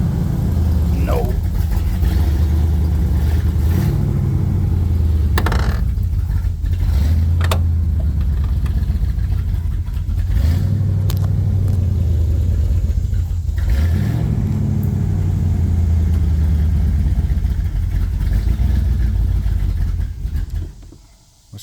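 A donor car with a 460 engine idles with a deep, steady low rumble and rises in occasional revs, close and loud throughout, with people talking over it until the engine cuts off at the end.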